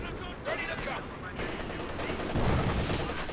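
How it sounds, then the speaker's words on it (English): Machine gun fire rattles in rapid bursts during a Company of Heroes 2 battle, loud and close, mixed with other gunfire and effects across a short stretch. "We do have two machine guns here for Von though."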